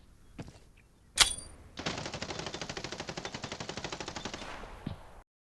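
Rapid sustained automatic gunfire in a shooter video game fight, a long steady burst of evenly spaced shots after a single loud crack, with a few faint clicks before it; no talk.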